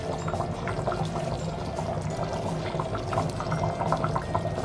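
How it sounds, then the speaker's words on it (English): Chickpea curry bubbles vigorously in a pot on the stove, a constant close simmering and popping churn at a fairly quiet level. "Is it supposed to be boiling so much?"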